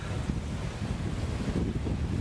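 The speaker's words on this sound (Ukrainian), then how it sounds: "Ну вітер просто ще такий, ну це просто жах." Strong hurricane wind buffets the microphone beside the Danube during a fishing trip, a loud, continuous low roar with gusty surges and no voices.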